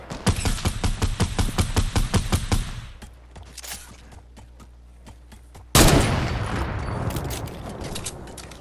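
Rapid gunfire in a video game firefight: a dense burst of about a dozen loud shots, then sparse quieter pops, and a sudden sharp blast followed by a sustained noisy rush with scattered further shots.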